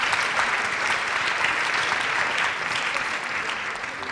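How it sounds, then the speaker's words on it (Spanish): An audience applauding after a panel debate, dense sustained clapping that is close and loud and fades slightly at the end. "Un aplauso."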